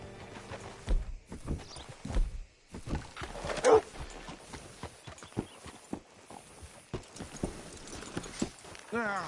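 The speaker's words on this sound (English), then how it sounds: "Hitch your horse up here." Horse hooves clip-clop in a slow, uneven walk on a farm in the video game Red Dead Redemption 2, moderately close, with someone talking over the steps and a horse snorting now and then.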